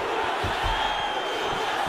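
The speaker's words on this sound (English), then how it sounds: "you hear the crowd react every time they come together" Arena crowd at a combat-sports fight gives short, sharp bursts of reaction as strikes land, a steady murmur of many voices with punchy swells rising and falling throughout.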